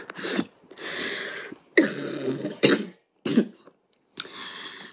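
Several harsh coughs in separate bursts, close to the mic, with short pauses between fits and no talking.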